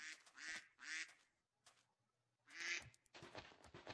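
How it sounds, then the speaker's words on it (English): Ducks in the video game Minecraft quack in a series of several loud, nasal calls with short gaps between them, close and clear with no talking. "Ducks!"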